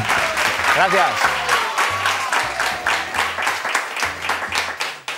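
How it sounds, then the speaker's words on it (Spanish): Crowd applause fills the room, steady clapping from many hands that tapers off at the end, with a voice speaking over it. "Qué aplauso más flojo,"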